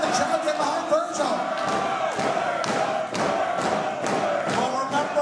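A wrestling crowd cheers and claps loudly for Virgil at an indoor show, with rhythmic stomping thuds and rising roars throughout, a commentator talking over the noise.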